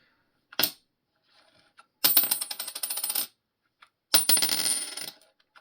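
A US quarter drops onto a hard surface during coin-roll hunting: a brief tick, then two separate ringing, rattling spins of about a second each, close and fairly quiet, with no talking.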